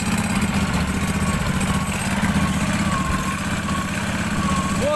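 A homemade snowmobile engine running steadily while the machine drives slowly over snow, a constant low droning putter with a slight buzz, close and fairly loud throughout with no talking.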